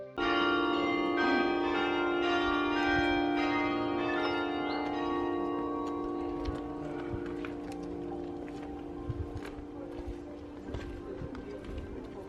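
Church bells ring out over Prague, their sustained tones layered and resonating at a steady, fairly loud level, then gradually thinning with faint street sounds in the background.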